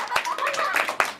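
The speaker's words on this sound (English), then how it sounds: "Let's get a round of applause or two." A short burst of clapping greets a costumed Abraham Lincoln character at a small show, with a few sharp hand claps standing out over a soft, fairly close patter and some background voices.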